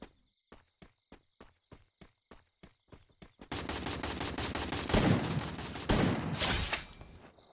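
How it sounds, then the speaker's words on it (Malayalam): Shotgun blasts in the mobile battle royale Free Fire Max: a string of evenly spaced, clipped shots at first, then a loud, sustained roar of heavier fire and explosions that swells and fades. "ഓ ഇത് ഷോർട്ട് ഗൺ ആയതുകൊണ്ടാണല്ലേ"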